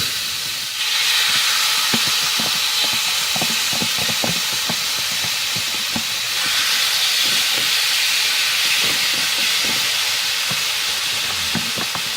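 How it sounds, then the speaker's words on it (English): Chicken pieces in marinade sizzle and hiss steadily in a hot pan for an Indonesian nasi goreng, with loud frying spatter, intermittent clicks and taps, and no talking. "We are putting the chicken in with the marinade and all."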